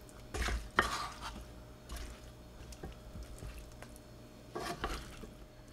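Raw chicken is mixed by hand with salt and pepper, giving a few soft wet squishes and stirring sounds in short bursts separated by quiet gaps, close and faint.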